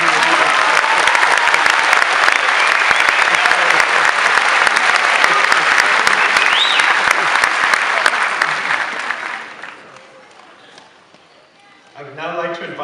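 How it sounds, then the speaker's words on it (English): A crowd at an Irish citizenship ceremony applauds the Minister for Justice, Alan Shatter: loud, dense clapping for about nine seconds that then fades away, and a voice begins speaking at the end. "I'd like to give you a round of applause for that."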